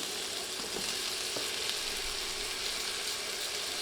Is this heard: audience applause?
no